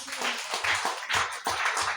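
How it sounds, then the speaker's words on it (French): A church congregation claps during a service, an uneven, rhythmic burst of hand claps with a pulsing beat, moderately loud and close, without speech over it. "Applaudissez pour eux."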